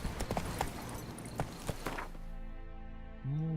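Roach the horse's hooves clip-clopping in The Witcher 3, a quick uneven run of close, sharp knocks that stops after about two seconds, followed by a steady hum and a rising tone.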